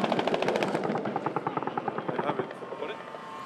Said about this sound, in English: The sound of jets above sends the rebels into defence mode